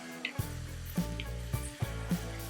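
Tomatoes for an Afghan chicken curry are stirred lightly in a pan, with a soft sizzle under a low humming background and a few scraping strokes at a slow, even pace, with no voices.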